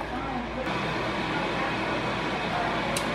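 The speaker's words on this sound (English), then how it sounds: "That's the microwave right there, sucking out all this goodness, so it doesn't smell up the house or whatever." Over-the-range microwave vent fan running in a home kitchen, a steady broadband whooshing hum, close and constant throughout.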